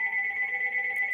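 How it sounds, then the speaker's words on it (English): A mobile phone rings with a steady, pulsing electronic tone, fairly close and moderately loud, with no voices over it. "That's my phone ringing."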